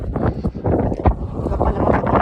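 Steady gusty wind at a hilltop windmill overlook in Bodrum, Turkey, buffets the microphone, a dense low rumble with brief surges, continuous throughout the clip.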